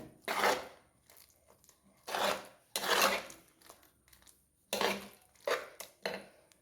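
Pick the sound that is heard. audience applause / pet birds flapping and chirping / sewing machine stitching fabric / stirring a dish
stirring a dish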